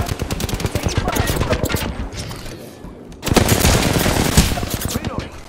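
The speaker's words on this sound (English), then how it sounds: "I'm taking shots. Taking fire." Rapid automatic gunfire and sharp shots ring out in the video game Apex Legends, with dense bursts of firing, a brief lull, then a louder barrage, while a voice speaks over the shooting.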